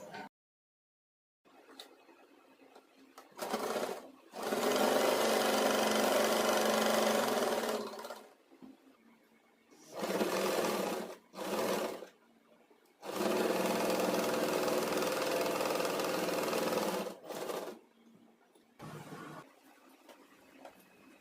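An electric sewing machine stitching a girls' uniform runs in several bursts of steady whirring, a few seconds each. The bursts are separated by pauses and short taps, close and moderately loud with no talk over them.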